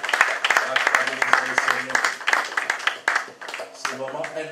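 Audience applause and cheering at a gathering for a prophet, lively uneven clapping with sharp hand strikes and voices calling out, rising and falling in bursts.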